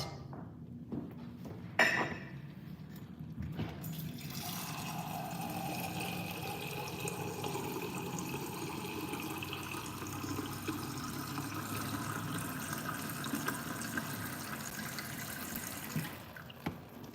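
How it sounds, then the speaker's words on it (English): Water pours steadily into a pot of nearly cooked meat being made into dog food, a continuous splashing rush that runs for about twelve seconds after a few brief knocks. "And now I'm gonna add some water to it."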